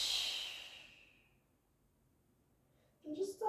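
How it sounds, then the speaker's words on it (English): Deep, slow exhale during a yoga relaxation session, a long soft airy breath near the mic that fades to quiet, followed by a brief breathy sound at the end. "And breathing all the way out."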